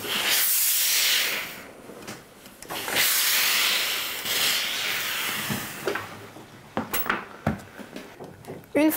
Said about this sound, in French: Et on termine ensuite en repassant du coup la couture de l'un des côtés.